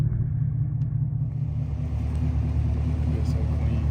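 A Chevrolet Camaro 2SS on 24-inch Rucci wheels cruises at night, heard from inside as a steady low engine rumble and road drone, constant and fairly loud throughout.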